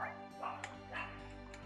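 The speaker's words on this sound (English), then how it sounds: "And the dog is barking" A dog barks in short yipping bursts, moderately close, over a steady low hum with faint voices nearby.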